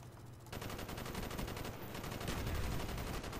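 Rapid G11 rifle fire in the video game Black Ops, a dense continuous burst that starts abruptly after a half-second and keeps hammering steadily at close range, loud and unbroken.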